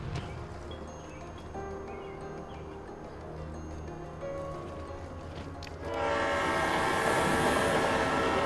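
A train rolls along the tracks with a steady loud rumble and rhythmic wheel clatter, growing fuller and closer toward the end, with no voices.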